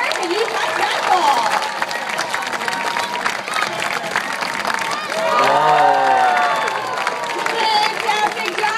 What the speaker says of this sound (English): So let's cheer her on.